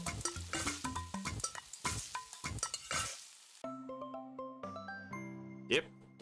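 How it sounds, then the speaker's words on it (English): Potatoes frying in a pan in the video game Eastward, rhythmic stirring hits and clinks followed by a bright chiming musical jingle, close and clear. "I'm just frying potatoes."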